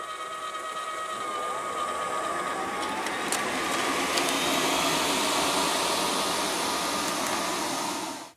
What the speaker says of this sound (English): I've ticked a selection of crumbs here on the carpet, so let's see how well it vacuums them up